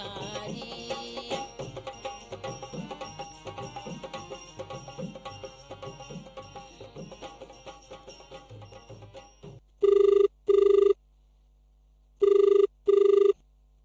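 A telephone rings into a folk-song radio phone-in program on All India Radio Sagar, two clear double rings standing alone after the folk music fades out.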